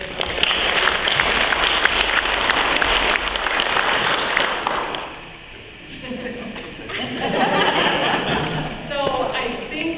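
A round of applause from a small outdoor gathering in Lockport, Illinois, with scattered clapping, chuckles and voices mixed in, easing off midway before a second burst of clapping and chatter.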